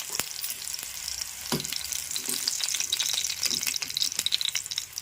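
Ridge gourd pieces fry in hot oil in a pan, a steady close crackling sizzle with occasional sharp pops and spatula stirring, and no talking.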